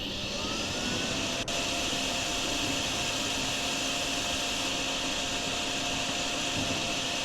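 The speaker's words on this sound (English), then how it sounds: "I think if we just vacuum this area" A vacuum cleaner in DrainSim runs as a constant loud whooshing roar with a steady hiss and hum, unchanging apart from one brief click near the start.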